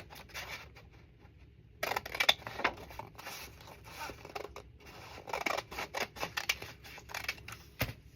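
Scissors snipping through paper ephemera at a craft table, a run of close, crisp cuts and rustles that starts quietly and grows busier in the second half.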